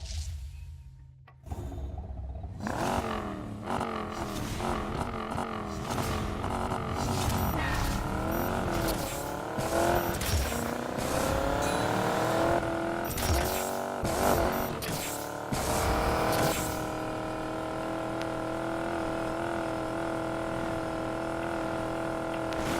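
A car engine in the Need for Speed Payback racing game revs hard and climbs through gears, with rising and falling whines and abrupt shifts, then settles into a steadier drone near the end.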